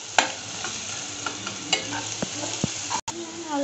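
Spinach for lehsuni palak is stirred in a hot oily pan, a close sizzle broken by a few scraping utensil strokes and a brief clatter near the end, without any voice.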